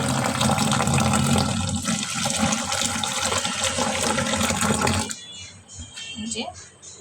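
Water poured from a tap or jug over lentils set to soak in a home kitchen, a steady loud rushing splash for about five seconds that then cuts off, leaving quieter clinks and drips.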